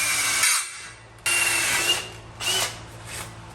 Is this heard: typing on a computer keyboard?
no